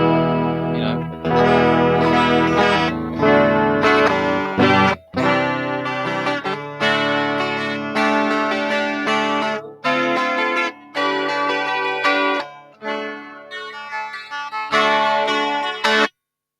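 Budget electric guitar played clean without effects, a loud, steady stream of strummed chords and picked notes with short pauses between phrases, heard alone without talking.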